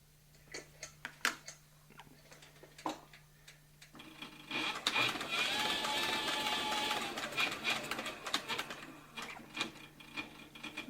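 Heavy-duty sewing machine stitching a leather saddle: a few slow single stitch clicks, then a fast continuous mechanical whirring run of several seconds, and then scattered clicks as it slows and stops.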